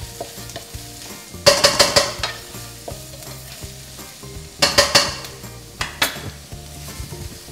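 Onions and chili sizzle in a pan for Indonesian fried rice, a steady hiss broken by bursts of metal utensil scraping and clanking against the pan in quick clusters. No speech.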